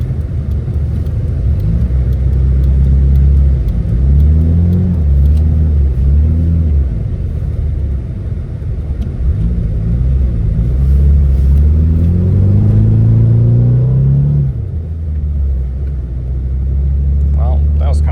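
A Mitsubishi Eclipse driving after a cold start at 5°F, its engine rumbling loud and close inside the car with several rising revs as it accelerates through the gears, then settling down near the end.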